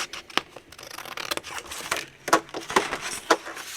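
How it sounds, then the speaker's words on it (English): Scissors snip along a score line on paper for an envelope folio, making a string of close, crisp cutting clicks in an irregular rhythm with brief pauses. "we are going to just cut along the score line."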